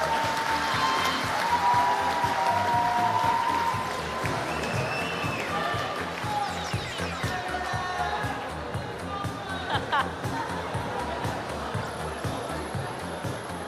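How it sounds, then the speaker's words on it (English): Live audience clapping for the Dock Masters 2020 finalists, a dense, steady round of applause that holds for many seconds before gradually thinning, with some voices mixed in. "May I have a warm round of applause."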